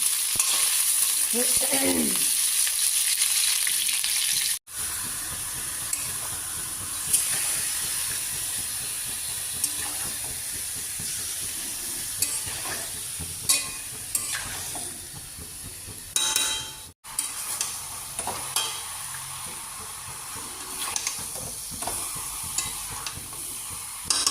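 Meat cooking in a pan, with a near, continuous hissing sizzle and occasional stirring scrapes that go on steadily for over twenty seconds.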